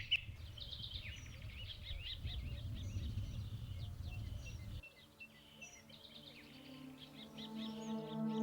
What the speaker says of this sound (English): A dawn chorus of birdsong.